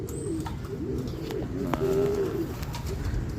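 Racing pigeons cooing in a loft area while awaiting birds from a 550 km race: several soft low coos and burbling calls, close by over steady ambient noise, with faint chirps from other birds.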